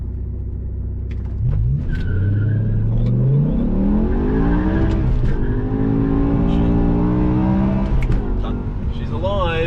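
A BMW M6 V10 launches hard from a standstill in a 0-100 km/h run, its engine note climbing loudly through several upshifts with audible wheelspin. The roar is close and sustained, with brief talk inside the car.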